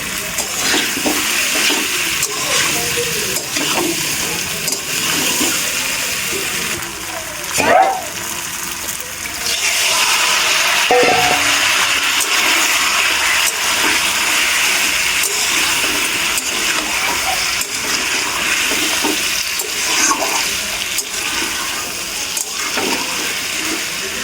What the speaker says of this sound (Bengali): খুব সামান্য পরিমাণে জল দিয়ে সুন্দর করে একবার কষিয়ে নেব